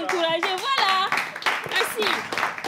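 Audience clapping at a live entertainment show, heard as rhythmic hand claps mixed under a loud, expressive voice that talks or sings close to the microphone throughout.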